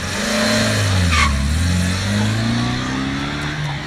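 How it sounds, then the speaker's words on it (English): A car engine rumbles and revs outside, rising and falling in pitch with a brief tyre-like squeal, loud and continuous with no talking. "Hey, someone's pulling up outside."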